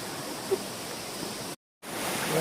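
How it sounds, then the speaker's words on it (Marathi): A loud stream rushes over a rocky stone bed as a steady, dense wash of water noise, briefly cut off by a short gap before resuming. "पाण्याचा आवाज पण जोरात आहे. झोताळ व्हाळ आहे पूर्ण कातळाचा"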